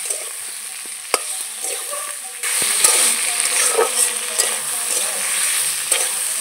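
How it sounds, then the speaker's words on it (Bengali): Chopped onion and tomato fry in an oily pan, giving a steady hiss that swells louder partway through, with a few sharp clicks of a spoon stirring against the metal and no talk. "পেঁয়াজ আর টমেটো একটু ভাজা ভাজা করে নেব"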